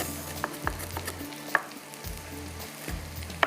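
Onions and mixed vegetables fry in a pan for a potato sabzi, giving a steady low sizzle broken by a few sharp utensil clinks and stirring knocks, with no talking.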